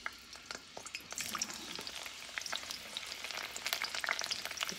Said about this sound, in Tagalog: I-fry muna natin yung kamote.